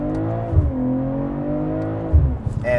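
A 2023 BMW M340i with its iconic sound sport setting on revs its exhaust in two throttle blips, rising and falling engine tones close by, ending with light crackles and pops.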